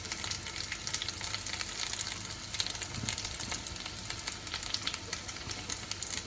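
Ginger paste and spices frying in hot oil in a pan while being stirred, a steady close sizzle with scraping stir noises throughout, no talking.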